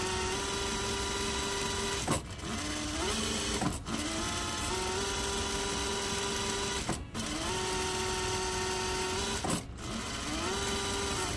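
A sewing machine stitching a vintage robe from a McCall's pattern, running in a steady motorized hum with several short pauses and restarts, close and alone.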